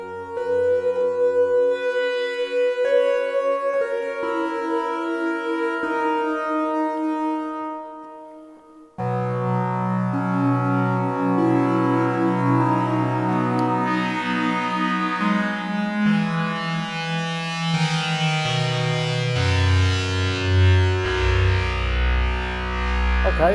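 Sustained synthesizer chords drenched in reverb from Steinberg HALion 6, shifting pitches with a brief dip before a fuller, distorted, swirling passage that slides downward.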